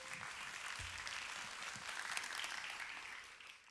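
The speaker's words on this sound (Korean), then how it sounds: "강완수님 그리고 황호균님에게 다시 한번 박수 부탁드립니다." Steady applause from a concert audience at a jazz bass festival stage show fills the space evenly, a soft, distant-sounding hiss of many hands clapping with no voices over it.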